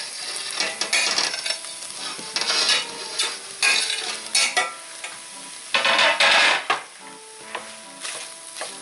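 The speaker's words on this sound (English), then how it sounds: "it's time to go in with your garlic and smoked sausage." Garlic and smoked sausage sizzle in a pan while being stirred in bursts, with scraping and clinking of a utensil against the metal, loud and close with short pauses between stirs.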